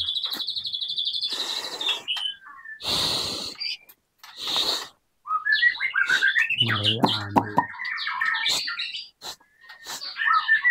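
A white-rumped shama sings loud, varied phrases of whistles, trills and chattering notes, close by, with brief pauses between bursts.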